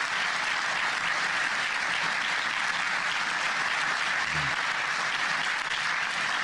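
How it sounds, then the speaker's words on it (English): An audience applauding at a public address on food prices in Chicago, a steady, dense wash of clapping that holds evenly throughout. "Cue applause."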